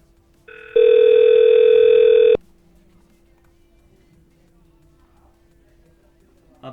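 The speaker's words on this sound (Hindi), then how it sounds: "अब मैं मैनुअल डायल कर रहा हूँ" A telephone tone sounds when a number is dialed manually in the Vicidial call-center dialer: a short lower beep, then a loud steady multi-tone tone lasting about a second and a half that cuts off abruptly, followed by quiet line hiss.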